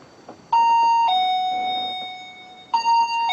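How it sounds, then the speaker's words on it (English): A laser beam sensor alarm at the historic Mermaid Inn gives loud electronic two-tone chimes, one pattern and then a lower held tone, and repeats the same sequence after a short pause. "if something crosses the beam that we can't see, it will create an audio alarm like this"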